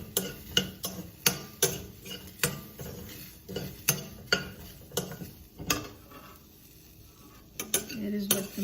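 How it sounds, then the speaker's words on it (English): A spoon clinks rhythmically against a bowl while spices are stirred together, a run of sharp close taps that pauses briefly before resuming. "Let's mix the spices again."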